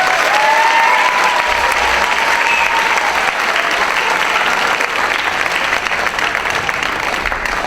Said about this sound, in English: let's give them a big welcome and a round of applause